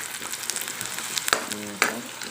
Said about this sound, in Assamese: মোৰ ভাজিখিনি প্ৰায় সিজিছে আৰু আলু এনেও পটাপট সিজে এইখিনি